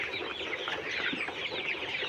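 A shed full of 33-day-old Colorbird chickens clucks in a dense, continuous chorus, many birds overlapping close by with no pauses and no talk.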